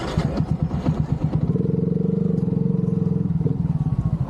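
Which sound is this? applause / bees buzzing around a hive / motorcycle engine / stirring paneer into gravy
motorcycle engine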